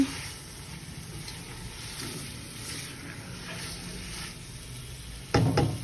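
Garlic-ginger paste fries with chicken for a bhindi chicken curry, a soft, steady sizzle close by with a few stirring scrapes, then a brief sharp clatter of the pan near the end.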